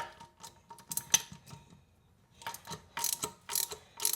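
A ratchet tightens the bolt on a toilet during a repair, giving several bursts of close, rapid metallic clicking separated by short pauses.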